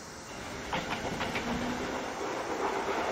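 Train in the A-Train 9 game pulling away, a steady rolling rumble with a few rhythmic clickety-clack beats over the rails, heard alone with no talk.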